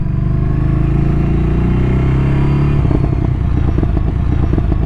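Deep, continuous Ducati Scrambler Nightshift motorcycle exhaust burble, steady and loud, with a rhythmic popping pulse emerging toward the end as the engine note shifts.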